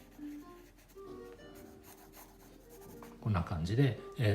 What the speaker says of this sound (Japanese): モチーフを軽くスケッチしてみて